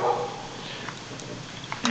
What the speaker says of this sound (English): That dog will bark at anything all day long.